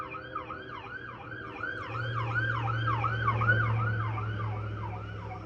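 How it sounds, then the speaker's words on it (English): A wailing emergency-vehicle siren sweeps up and down in a steady repeating cycle, growing louder as it passes close by, with a low engine rumble underneath and no talking. "I'm gonna let the siren go by."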